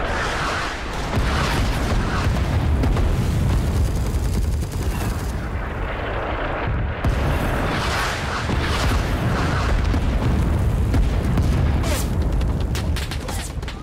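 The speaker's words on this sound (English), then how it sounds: "They are firing at us with machine guns" Sustained machine gun fire and booming explosions in Rising Storm 2: Vietnam, dense and loud, with overlapping bursts near and far across a chaotic battlefield and shouting voices mixed in.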